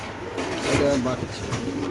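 Pigeons coo softly at a pigeon market, low throaty calls sitting beneath a voice talking nearby.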